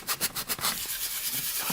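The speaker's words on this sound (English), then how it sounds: "Sanding." Sanding of 3D-printed armor parts for a Master Chief costume: a quick run of rhythmic rasping strokes, then a steadier close, gritty rubbing hiss with no talk.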